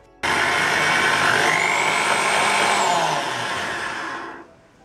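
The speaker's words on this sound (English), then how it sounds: "use this tip of this drill here in the lathe, spin it a little bit, and just mark a hole right there" A lathe spins a drill bit to mark a hole in a workpiece, starting abruptly with a steady loud whirring motor hum and a rising then falling whine, running a few seconds before winding down.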